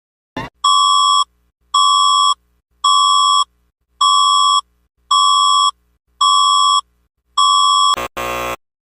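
Emergency Alert System alarm: a loud, piercing two-tone electronic attention signal sounding in seven even, evenly spaced bursts of about half a second, ending in a short harsh burst of noise.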